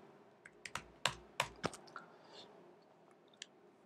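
Typing on a computer keyboard while writing code, a handful of sharp, separate key clicks in a quiet room, close and irregular, thinning out toward the end.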